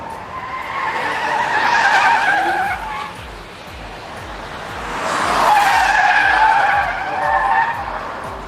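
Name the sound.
Rolls-Royce Cullinan driven hard on race track, tires skidding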